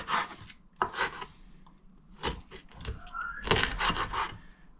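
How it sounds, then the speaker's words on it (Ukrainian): Knife slicing roach fish into roughly one-centimetre pieces for a herring-style dish, with several crisp chopping strokes in uneven bursts, close and moderately loud, no talking. "кусочками ріжемо десь по сантиметру, отак невеликим"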